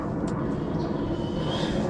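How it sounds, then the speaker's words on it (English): A World War II military plane passes overhead above a bass-fishing lake, its steady broadband engine drone loud and continuous throughout, with no talk over it. "World War II plane coming overhead right now."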